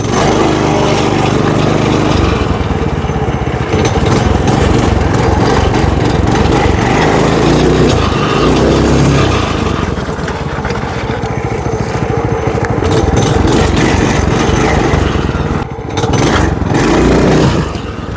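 A homemade tricycle with a 212cc single-cylinder engine revs hard and loud close by, its buzzy, lawnmower-like exhaust note rising and falling through repeated throttle bursts with a brief dip near the end.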